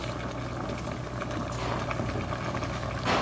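Spinach and coconut simmer together in a pot, giving a steady soft bubbling and hiss throughout.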